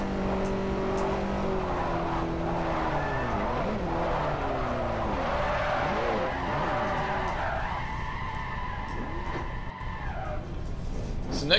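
A Hakosuka car drifting in a virtual drift racing game on the streets of Long Beach, with continuous wavering tire squeal and engine revving, the squeal rising and falling steadily, while a commentator talks over it.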